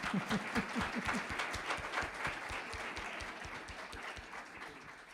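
A church congregation breaks into applause, rapid hand claps close at first and then blending into a steady, moderately quiet round that fades slightly toward the end.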